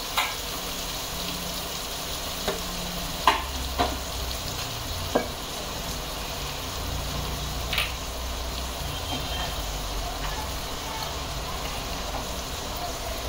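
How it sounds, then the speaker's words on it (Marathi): Onions sautéing over a low gas flame in a pan for paneer tikka masala, a steady soft sizzle with a few sharp clicks of stirring, close and moderately quiet, with no voices. "परतून घ्यायचा छान. गॅस मी बारीक केलेला आहे, नाही तर कांदा जळून जाईल आपला."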